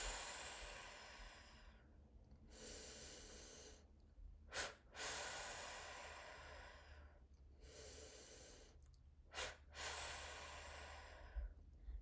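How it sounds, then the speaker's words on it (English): A person breathes during a breathwork exercise: long slow inhales, each followed by pairs of short, sharp, forceful exhales through the nose. Close and fairly faint, with no talk. "you're going to do 2 short, sharp breaths out"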